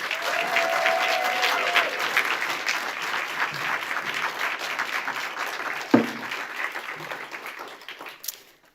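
Sustained audience applause welcoming a poet to the podium at a library author reading, steady clapping from a seated crowd that slowly thins out toward the end.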